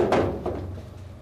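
Clean-out door of a popcorn machine being fitted back into place, giving two quick hard knocks close up, a sharp clack followed by a softer bump, with no talking.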